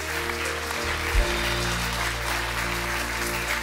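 An audience applauds steadily as a crowd at a talk, a dense continuous clatter of many hands without pause, loud and close.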